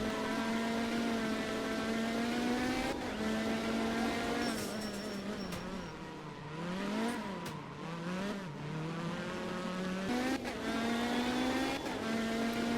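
A rally car in the Art of Rally video game drives through tight hairpins, its engine buzzing loudly and steadily, the pitch dipping and rising as it brakes, downshifts and accelerates out of the bends.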